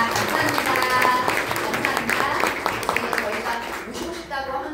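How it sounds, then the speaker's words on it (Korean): Audience at a company headquarters event in Bundang applauding to thank a guest department head, a dense continuous wash of clapping at close range that thins out toward the end, with voices mixed in. "최종훈 부장님께 큰 감사의 박수를 보내드립니다"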